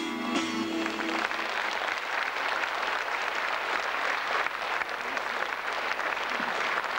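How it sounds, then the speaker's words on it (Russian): A concert audience in Sterlitamak applauds at the end of a song, a dense, steady wash of clapping that holds loud throughout, with a brief fading tone at the start. "Аплодисменты."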